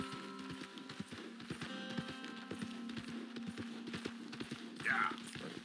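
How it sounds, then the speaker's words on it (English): Horse hooves clip-clopping steadily at a gallop in the video game Red Dead Redemption, rhythmic and continuous under a droning background, with someone talking over it. "Come on, horsey. I'm pushing you to the limits."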